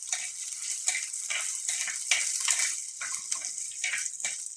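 Curry leaves crackle and hiss in hot oil over a low flame for a coconut-milk fish curry, bursts of sputtering rising and falling in quick uneven waves, close by with no talk.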